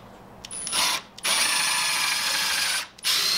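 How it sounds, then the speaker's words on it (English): A power drill with a 7/32 bit whirs loudly in short bursts, briefly stopping and starting again as it bores through wood for a corbel, close up with no talking. "And drill a hole."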